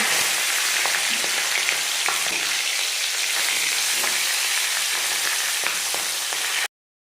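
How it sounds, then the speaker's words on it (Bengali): Marinated fish heads frying in a hot kadai for a moong dal dish, a dense, loud, continuous sizzle with faint crackles throughout that cuts off abruptly. "মাছের মাথাগুলো খুব ভালো করে ভাজা হয়ে গেলে"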